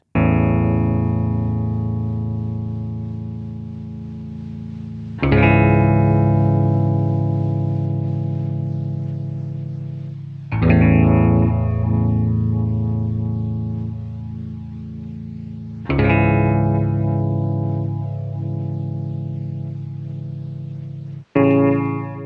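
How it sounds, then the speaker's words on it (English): Sustained distorted chords ring out alone, restruck four times about five seconds apart, with a gritty, saturated, slightly warbly lo-fi texture from Softube's Dirty Tape plugin. "add Softube's dirty tape into the output drive for maximum vibe, width, and lo-fi sound"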